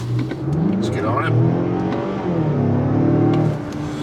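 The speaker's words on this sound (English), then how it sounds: "this engine is just a peppy, very responsive engine" A 2025 Mazda CX-5 Premium Plus Turbo accelerates from inside the cabin, its engine note rising and falling in pitch as it gathers speed, loud and close, with some talking over it.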